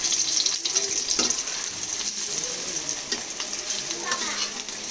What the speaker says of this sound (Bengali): আর একটু তেল দিয়ে এখন দিয়ে দিচ্ছি ডিম।